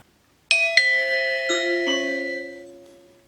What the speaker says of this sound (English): Someone is at the wired doorbell.